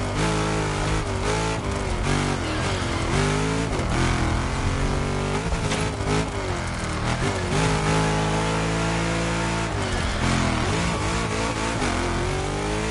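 Car engine revving in the racing video game The Crew Motorfest, a loud continuous mechanical roar with rising and falling pitch as the car accelerates and shifts, steady throughout with no talking.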